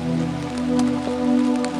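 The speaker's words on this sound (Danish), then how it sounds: "regner det." Steady rain falls on the ground and nearby surfaces at a Danish roebuck hunting ground, a continuous patter with soft drips and no voices.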